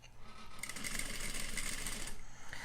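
A sewing machine runs steadily as it stitches a bias facing around a garment neckline, a close, even whir that holds for about a second and a half before it slows and stops.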